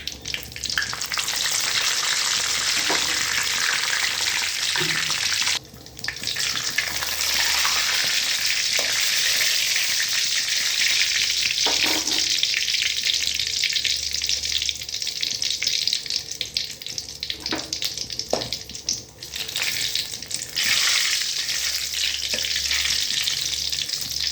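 Chopped onion and tomato sizzle in hot oil in a pan, tempered for a Tamil tomato kuzhambu. The loud, steady frying hiss runs throughout, with occasional stirring knocks and no speech.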